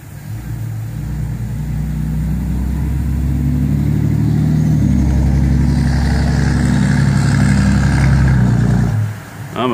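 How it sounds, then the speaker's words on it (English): A loud, low engine rumbles steadily close by, its roar building and holding for several seconds before cutting off abruptly. "I'm a big loud truck."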